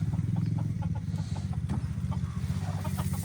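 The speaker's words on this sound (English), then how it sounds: "I'm feeding your chicken. Don't let them out." Several chickens being fed cluck close by in a busy, irregular chorus of short low clucks, continuing throughout without speech.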